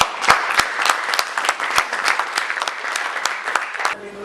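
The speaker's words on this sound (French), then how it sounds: "On va acclamer le Seigneur." A church congregation claps to acclaim the Lord, giving loud, steady, rhythmic applause with sharp regular beats, voices mixed in, until it stops abruptly near the end.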